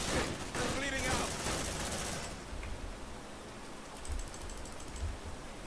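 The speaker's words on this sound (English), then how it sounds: "Suppressive fire." Suppressive gunfire from the game Aliens: Dark Descent roars as a dense, continuous burst for about two seconds, with a voice briefly over it, then dies into a low hissing background with faint thuds.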